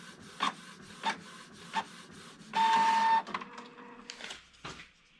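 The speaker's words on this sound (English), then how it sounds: "It's just a case of printing these out." An inkjet-style home printer prints cider bottle labels from a simple template: a few short feed clicks and whirs, then a loud, steady printing rasp lasting under a second, followed by softer mechanical clunks as the sheet finishes.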